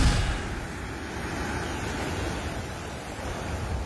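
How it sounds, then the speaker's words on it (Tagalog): Strong sea waves crash and surge at Calayan Island, Cagayan, during Typhoon Leon, a loud, continuous rushing roar mixed with wind buffeting the microphone. "Malalakas na hampas ng alon sa dagat ang nararanasan ngayong araw sa Calayan Island"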